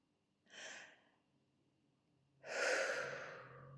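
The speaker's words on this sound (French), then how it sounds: "prenez une bonne inspiration" Two breaths close to the microphone: a short inhale, a pause, then a longer, louder deep breath that trails off during a guided relaxation and forgiveness meditation.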